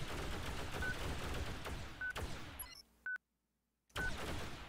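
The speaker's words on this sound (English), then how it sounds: "Alert. Missile closing." Rapid gunfire rattles continuously in the X3: Terran Conflict space game, then a short electronic warning beep sounds for an incoming missile, the audio drops out briefly, and the firing resumes.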